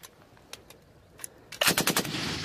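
US military live-fire training exercise with machine-gun fire: a few scattered distant shots early on, then a loud, sustained rapid burst of automatic gunfire dominating the final second.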